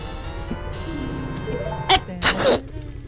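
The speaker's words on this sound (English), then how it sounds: "Aw, I sneezed." A sneeze bursts out mid-session while playing The Legend of Zelda: Ocarina of Time, two quick loud bursts close to the mic over steady game music.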